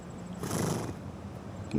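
A single horse whinny rises out of quiet outdoor background along the Te Awa River Ride in Cambridge, New Zealand, lasting under a second, fairly close, with faint shuffling afterward.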